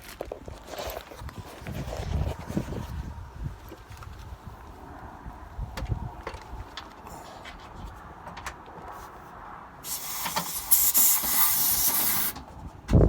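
Near the end an air gun releases a loud, sharp hiss of air into a valve on an RV. Quieter handling noises and footsteps come before it.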